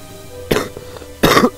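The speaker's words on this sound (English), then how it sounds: "Coughing fit of death." Harsh, close coughing in a video game comes in two bursts, the second longer and followed by a short final hack, with quiet gaps between them and no talking.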